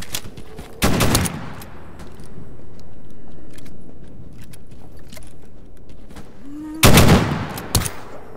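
Bursts of NPC gunfire in the video game STALKER GAMMA: a loud volley near the start and another near the end, with a quieter ambient stretch between.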